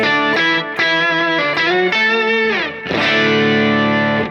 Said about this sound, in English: And then in loop 1, I have the Tender Octaver.